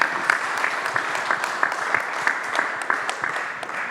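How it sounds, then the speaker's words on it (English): A conference audience at a chess sponsorship and marketing event gives a big round of applause, a dense burst of steady clapping close by that carries through the whole moment. "Everyone, let's give one more big round of applause for Viktor Bologan and Chess ID."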